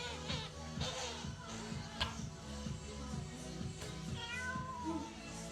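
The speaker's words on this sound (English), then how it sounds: "Here is the sound of the cat crying." A distressed cat cries in repeated drawn-out meows, rising and falling in pitch, heard fairly faint and slightly distant over a steady background hum with a few sharp taps, and no talking.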